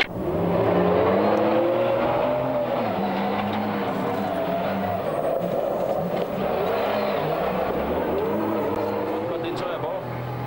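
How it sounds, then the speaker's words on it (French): A 1997 Toyota rally car speeds along a stage, its engine droning loud and steady with shifting pitch throughout, while a voice talks over the engine noise. "Nous retrouvons Philippe Vanberg 500 mètres dans sa Toyota"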